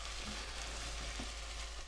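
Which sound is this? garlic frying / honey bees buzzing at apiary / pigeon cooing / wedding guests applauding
garlic frying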